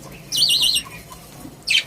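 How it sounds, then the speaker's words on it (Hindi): Two short, shrill bursts of chirping from pet white exhibition parrots in a breeding aviary in Islamabad, close and loud with quiet between them. "ये मेरे तोते हैं"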